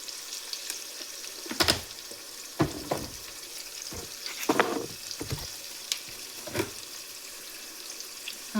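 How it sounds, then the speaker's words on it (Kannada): Tomatoes and salt are mixed in a frying pan over a faint steady sizzle. Scattered scrapes and knocks of the spoon recur every second or so, close and fairly quiet, with no voices. "ಟೊಮೊಟೊನ ಚೆನ್ನಾಗಿ ಮಿಕ್ಸ್ ಮಾಡ್ಕೊಳ್ಳಿ."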